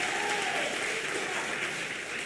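A church congregation at a Sunday worship service applauds, a steady wash of many hands clapping at moderate distance.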